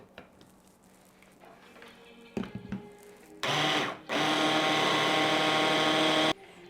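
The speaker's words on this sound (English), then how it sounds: "I'm gonna scrape the sides and then we're gonna blend it again." Kitchen blender blending pesto, a few brief clunks followed by a loud, close, steady motor whir that cuts out briefly, restarts and runs for a few more seconds before stopping.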